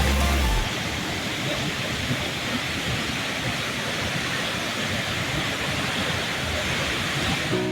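The constant roar of Tuliman Falls, a high waterfall in Mexico, is heard up close as a dense, unbroken rush of falling water that fills the whole stretch at a loud, steady level.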